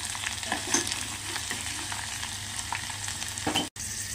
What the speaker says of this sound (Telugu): ఈ రెండింటిని చక్కగా గోల్డెన్ కలర్లో వచ్చేంత వరకు ఫ్రై చేసుకున్నాం.